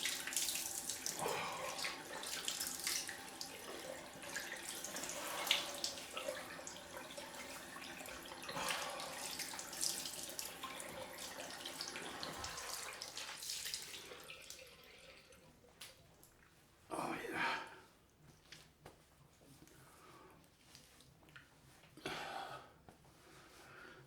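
Water runs quietly from a bathroom tap for a cold rinse after a straight-razor shave. The stream flows steadily at first, then cuts off, leaving faint drips and small handling noises.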